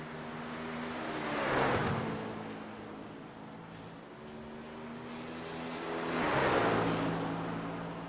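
A BMW GT3 race car engine in a sim racing series at Canadian Tire Motorsport Park, a steady droning motor with two swelling passes as cars roar by, rising and falling in pitch.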